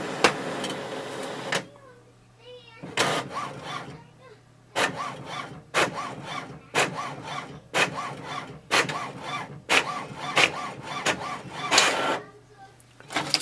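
An HP OfficeJet Pro 9013 printer runs through a page, a series of rhythmic mechanical bursts of carriage and paper-feed whirring separated by short pauses, close and clear.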